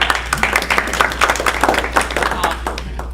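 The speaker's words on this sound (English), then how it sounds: "we'll give him a big round of applause" A small Rotary Club meeting crowd claps for a guest, a scattered, moderately loud patter of individual hands over a steady low hum in the room.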